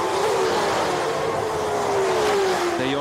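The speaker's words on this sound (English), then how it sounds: "These are some of the loudest engines you'll ever hear on a racetrack" Superleague Formula race car engines roaring loudly and continuously on a warm-up lap at the Nürburgring, with a whining pitch that shifts as a car drives past on the track.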